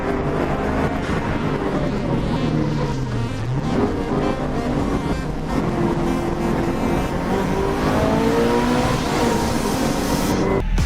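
A Subaru Impreza 2.5RS runs hard on a dirt backyard rally stage, its flat-four engine droning steadily with revs climbing and dipping, joined by gravel and road noise, loud and close throughout.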